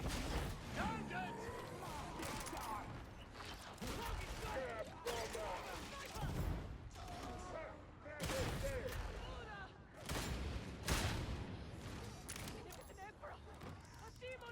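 Gunfire bursts and impacts in the video game Darktide come in dense, rolling volleys, layered with game effects and a player talking over much of the action.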